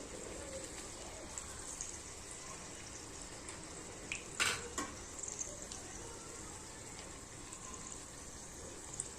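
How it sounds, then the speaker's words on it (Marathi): A puri deep-fries in hot oil at low gas, giving a quiet, continuous sizzle with a brief louder bubbling burst midway and a few soft crackles after. "इथे आता तेलात सोडत आहोत बघा किती छान फुललेली आहे आपली पुरी"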